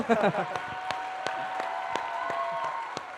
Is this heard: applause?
yes